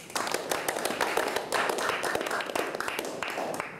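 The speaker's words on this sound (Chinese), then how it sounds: "班上有这位新同学，我们是不是用掌声来欢迎他呢？" Classroom applause welcoming a new student, a dense burst of many hands clapping together for a few seconds, fairly loud and close, with no talk.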